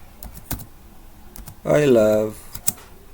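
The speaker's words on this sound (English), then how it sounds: "So now we can type something there" Keys clatter on a computer keyboard while typing a document in MS Word, with quick clicks scattered across the clip and a short burst of speech in the middle.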